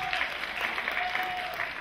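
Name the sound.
applause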